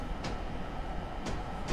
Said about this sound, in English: It stops quick, too. The electric trains are snappy.